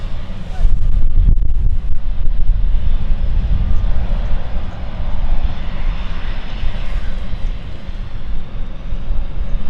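A fixed-wing airliner taxis toward its stand at London City Airport, a steady close engine rumble and whine with wind buffeting the microphone throughout, some faint voices underneath.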